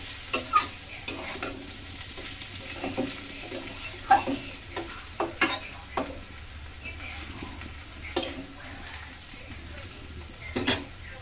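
A cauliflower, potato and egg bhaji frying in a pan is stirred, with a soft sizzle under repeated scraping and clinks of a spatula against the pan.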